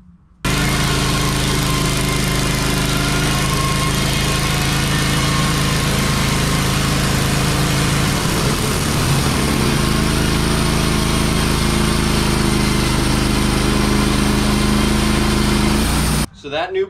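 A Wood-Mizer LT15 wide sawmill running steadily as its standard blade slices through a massive oak log, a loud, sustained engine drone and cutting whine that holds throughout before stopping near the end.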